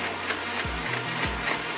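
Mixer grinder running with fresh coconut and water in the jar, a steady close whirring motor with a couple of dips in pitch as the load shifts, no talking.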